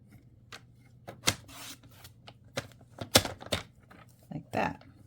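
Scissors or a blade cutting through a piece of card to make a template, a few crisp snips and rasps spread out irregularly, close by and moderately loud.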